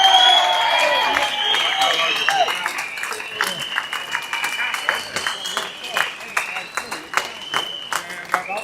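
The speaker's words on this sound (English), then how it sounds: "Please give her a massive round of applause." A crowd at an outdoor march in London breaks into loud, sustained applause that gradually thins into scattered, irregular claps, with voices faintly mixed in.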